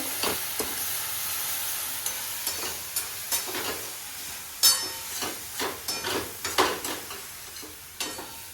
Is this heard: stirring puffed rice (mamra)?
yes